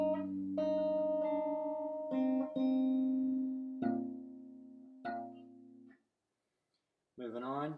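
Fingerstyle acoustic guitar playing a part from a song, plucked notes and chords ringing in a few spaced phrases with sustained decay, ending after a short pause with a brief strummed flourish.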